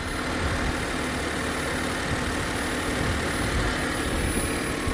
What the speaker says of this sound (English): Now let's talk a bit about the engine, starting with what it sounds like when it's just on generating current at idle.